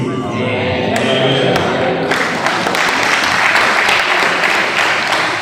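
A dense, loud wash of rapid clapping fills the room at a Sadhu Sundar Singh film show in Dandeli, Belgaum, steady throughout, with a voice heard over the opening moments.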